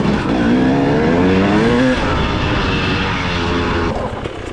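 Enduro motorcycle engine revving close by, a loud steady drone whose pitch climbs then falls, continuous and without talk.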